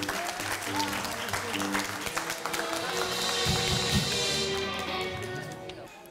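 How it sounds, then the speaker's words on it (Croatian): Studio audience applauding during a Montenegrin TV quiz show, a steady wash of clapping that holds for several seconds under a host's brief voice. "Aplauz!"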